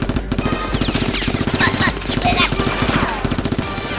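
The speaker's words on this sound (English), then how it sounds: "Jack burst in firing continuously at XICMAN, and the two henchmen to rescue Roll." Nerf guns fire continuously in a rapid, even train of sharp mechanical pops and clicks, loud and close, with a few whooshing sounds mixed in.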